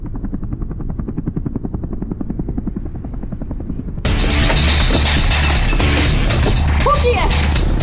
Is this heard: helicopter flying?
yes